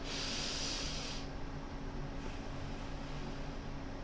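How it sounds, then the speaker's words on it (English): Slow diaphragmatic breathing during a home fitness routine, with a steady nasal exhale forming a soft, even hiss that fades out after about a second, followed by quiet room noise. "Hold the breath there for 1 count, and then exhale all through the nose."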